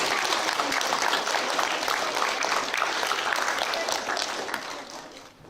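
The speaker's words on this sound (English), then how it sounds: "Round of applause for all our winners there" Sustained applause from a school assembly crowd cheering its winners, a dense, steady wash of clapping that holds for several seconds before tapering off at the end.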